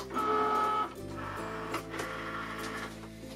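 Cricut cutting machine loading a large cutting mat, an even mechanical motor whir with a brief higher tone at the start, shifting pitch partway through as the rollers pull the mat in, close and steady.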